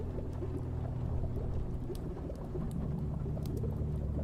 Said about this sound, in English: Rain pelted the leaded glass windows as evening settled over the town.